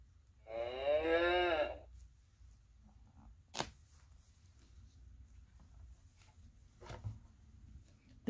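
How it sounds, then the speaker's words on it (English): One loud, low moo from a cow, played by an Usborne Noisy Farm interactive children's sound book, near the start, followed by quiet stretches broken by a couple of sharp clicks. "The noisy cow wakes up the donkey."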